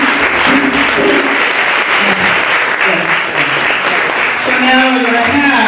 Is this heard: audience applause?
yes